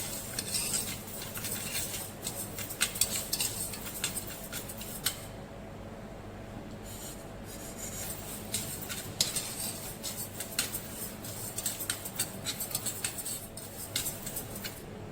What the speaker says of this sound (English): On a slow flame. I am going to dry roast this till a light brown color.